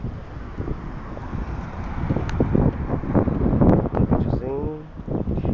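Gusty wind buffets the microphone with low rumbling bursts, steady throughout, on a hot early morning at Palmeiras, Cabo Frio, while a faint voice briefly sounds near the end.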